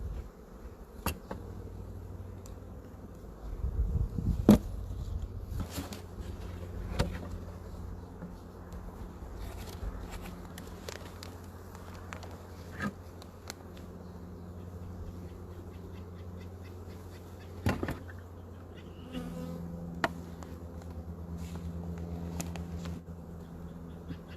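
Honeybees buzz steadily around beehives in a continuous low drone, with occasional louder passes of single bees close by and scattered clicks and taps over the hum.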